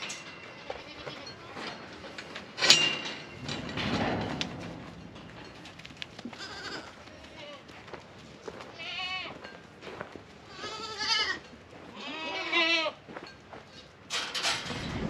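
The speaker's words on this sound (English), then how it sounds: "So this is a older buck like I was telling you about." A young buck goat, about six weeks old, bleats several times at close range, wavering calls scattered among shuffling and background noise with no talking.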